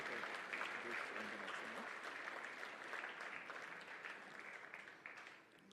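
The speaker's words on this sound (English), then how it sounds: "give a big round of applause to Merk Foundation" An audience applauds at a Merk Foundation anniversary event, a steady wash of clapping that carries on for several seconds before tapering slightly, heard from a distance and fairly faint.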